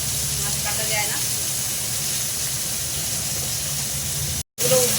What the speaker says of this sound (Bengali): খুব কড়া করে ভাজবো না, একটু হালকা ভাজবো